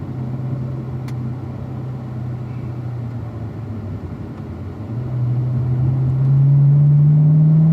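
A Chevrolet Camaro cruises around a race track in 4th gear at roughly 40 to 50 mph, its engine droning steadily in a low hum that swells louder and rises in pitch toward the end.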